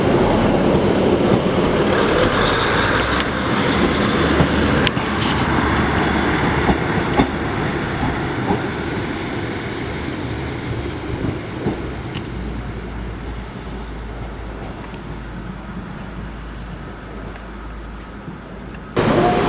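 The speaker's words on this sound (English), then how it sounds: "Getting ready to depart now is the 1232 Avanti West Coast service to London Euston." An Avanti West Coast Class 221 diesel train departs Chester station, loud engine roar with rumbling wheels and clicks over rail joints, gradually easing as it pulls away, with no voices.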